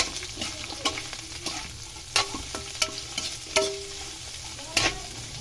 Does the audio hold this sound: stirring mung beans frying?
yes